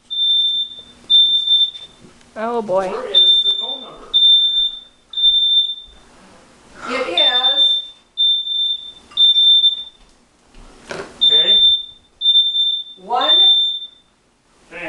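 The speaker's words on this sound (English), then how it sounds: "Stupid fire alarms." A smoke alarm set off by burning bacon beeps in repeated high-pitched bursts of two or three tones, loud and close, while a person talks anxiously between and over the beeps.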